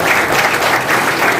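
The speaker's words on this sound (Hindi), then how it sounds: "जोरदार तालियां बजाएं" A crowd at a political party workers' meeting claps loudly in a brief, dense, continuous burst of applause.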